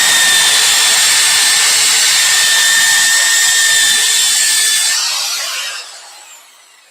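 An electric drill whirs loudly at a steady high pitch for about five seconds, then spins down and fades away.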